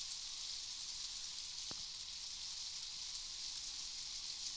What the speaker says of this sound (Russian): Дождь, молния, все как полагается.